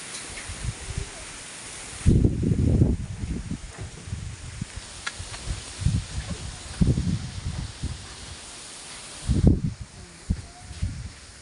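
Wind gusts shaking foliage, with bursts of rustling and flapping leaves rising and falling, strongest in a few loud surges.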